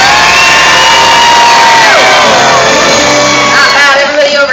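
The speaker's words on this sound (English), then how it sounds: "Let's hear a practice cheer for Team Homer." A crowd at a Universal Studios animal actor show lets out a loud practice cheer, with shouts, whoops and children's voices blending into a sustained roar lasting several seconds.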